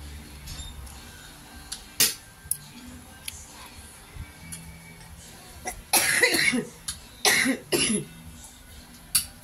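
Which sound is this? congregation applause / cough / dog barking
cough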